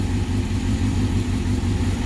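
A 2005 Suzuki GSX-R 750 motorcycle with a Scorpion exhaust idles close by, a steady, throbbing low rumble with an even pulse and no voices.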